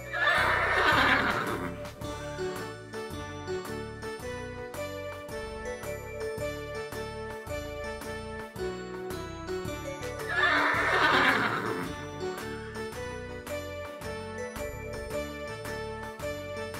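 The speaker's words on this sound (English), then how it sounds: "Horse." A horse whinnies loudly twice, the two neighs about ten seconds apart, over a steady backdrop of tinkling, ringing tones.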